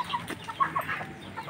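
Aseel Mianwali and Burmese chickens on a farm in Cianjur, West Java, Indonesia give short, scattered clucks and squawks at close to mid range over a faint outdoor background.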